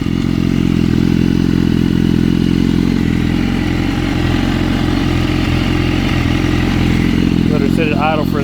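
A Granite Grey 2013 BMW S1000RR motorcycle engine idles close by with a steady, throbbing burble that holds even throughout.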